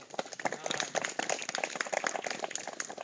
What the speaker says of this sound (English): Round of applause, quick, for